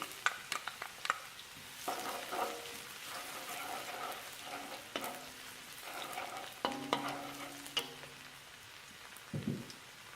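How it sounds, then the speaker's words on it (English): Shallots and garlic frying in a pan for pork fried rice, a sizzling hiss broken by repeated scraping and stirring strokes of a utensil, with a few sharp clinks, close and moderately loud. "You want to fry the shallot first and then the garlic so they're golden"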